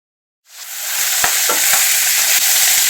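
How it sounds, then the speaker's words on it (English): Stuffed green chilies frying in four tablespoons of oil, a loud, steady close-up sizzle that starts abruptly and continues with occasional crackles and pops. "So I've added 4 tablespoons of oil and we're going to fry the chilies one by one."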